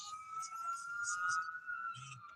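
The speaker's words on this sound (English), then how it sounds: "Probably an ambulance. Starting to sound more like an ambulance." Faint, distant ambulance siren holding a steady wailing tone with a pulsing overlay, heard alone under quiet background noise.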